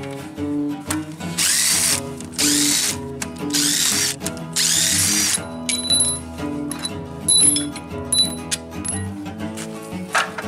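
A power tool drives a bolt tight on a Mazda L5-VE engine, giving several loud bursts of whirring separated by short gaps, then lighter clicks and metallic taps, close up and with no talk.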